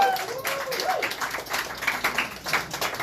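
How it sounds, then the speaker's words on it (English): Audience applause and clapping at a comedy show, a steady moderate crowd clatter lasting throughout with scattered voices and whoops mixed in. "Yeah, you can clap it up. Give yourself a applause."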